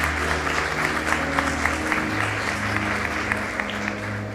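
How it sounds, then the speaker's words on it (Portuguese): A church congregation applauding during a service, steady dense clapping from a large crowd with a sustained low hum underneath, continuous and fairly loud throughout. "Você pode aplaudir a vida da Jéssica?"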